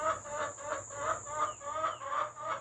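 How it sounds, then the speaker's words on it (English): Chickens cluck steadily in a backyard coop run, a flock of hens giving repeated rhythmic clucks close by, with no talking over them. "most of my chickies are out here in the run right now"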